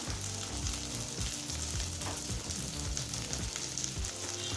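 Small onions and green chillies fry in a pan for moong dal sambar, giving a dense, loud, continuous sizzle and crackle close up. No one speaks.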